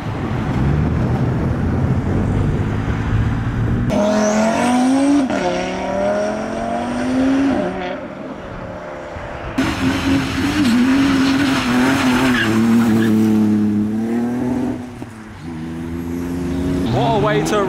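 A modified Toyota Supra pulls away from the Castle Combe circuit at a spring action day, its engine revving hard through rising and falling pitch sweeps with tire skidding, loud and close, while people talk over it.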